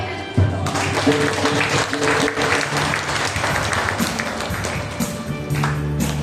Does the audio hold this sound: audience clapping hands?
yes